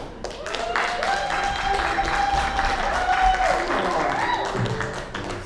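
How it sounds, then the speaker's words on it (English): A theatre audience at a performing arts center cheers and claps, a sustained crowd roar with whoops, building and then easing off, with a voice faintly over it. "Those sweet little cheers and applause"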